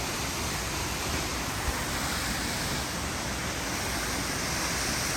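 South Falls at Silver Falls State Park in Oregon, a 177-foot drop, roars as a constant broadband rush of falling water, steady and unbroken from start to finish.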